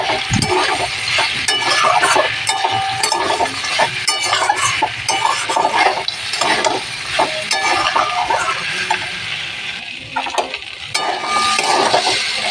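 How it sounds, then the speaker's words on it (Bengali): Vegetables with flat beans, drumstick stalks and dried lentil dumplings are sautéed in a pan, a close, constant sizzle broken by frequent scraping and clattering strokes of a spatula, with no voices. "কলাই বড়ি সিম আর ডাটা দিয়ে দেবো এবারে আরেকটু কষিয়ে নিতে হবে"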